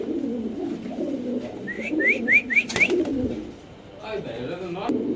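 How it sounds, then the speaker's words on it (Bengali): Pigeons kept in cages for sale coo close by in low throaty bursts, alongside a quick run of short rising whistled chirps, while someone talks over them. "দেখেন আসলে কবুতর ডাক দেখেন"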